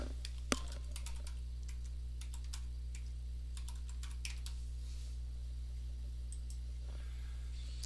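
Quick bursts of computer keyboard typing, a city name being entered, with soft scattered key clicks over a steady low hum and one sharper tap near the start.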